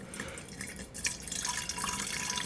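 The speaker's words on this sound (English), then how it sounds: "We're going to start out by putting in our water." Water pours into a container during a simple science experiment, a splashy, trickling stream with some dripping, fairly quiet and heard alone.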